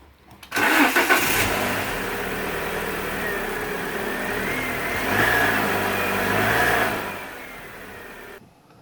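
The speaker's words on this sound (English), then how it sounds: "we're gonna start the car" An Alfa Romeo Twin Spark engine cranks and catches after an oil change, then settles into a steady idle with a brief rise in revs partway through before cutting off.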